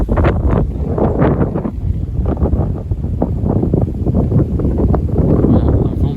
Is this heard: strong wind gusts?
yes